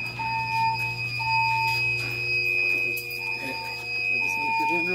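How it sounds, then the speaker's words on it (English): A Siemens main fire alarm panel sounds a steady electronic alarm tone continuously with an intermittent beeping pulse over it, while people talk quietly nearby. "So it's an alarm."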